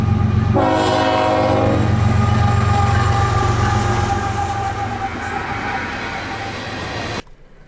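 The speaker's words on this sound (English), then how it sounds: "And he come down and he's blowing the horn, flashing lights and all that." Loud, close freight train horn on the Dundas Subdivision blasting steadily as the train passes, with rumbling wheels and cars underneath until the sound cuts off abruptly near the end.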